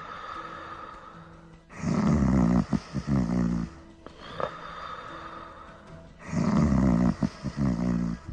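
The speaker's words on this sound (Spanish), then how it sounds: "alguien no paraba de roncar en la habitación contigua" A man snores heavily in the adjoining motel room. Two long, rumbling, rasping snores roughly four seconds apart are separated by a quieter, wheezy breath, loud and close with no talking.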